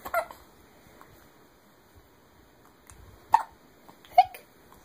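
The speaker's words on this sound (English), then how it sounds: "You got the hiccups." A baby hiccups a few times, short soft bursts spaced a second or so apart, close by in an otherwise quiet room.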